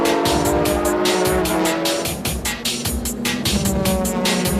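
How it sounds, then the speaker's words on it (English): A Toyota Supra GT race car in a Japanese GT championship race charges down the final straight, its engine roaring loudly with rapid gear-change pulses and a brief dip in the middle, no talking heard. "The third place Yellow Hat Supra was coming down the final straights but just managed to get in front."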